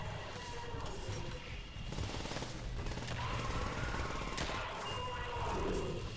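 PPSh submachine gun firing in the Call of Duty zombies map Shi no Numa, steady rapid game gunfire under dense sound effects and a droning background, with no voice over it.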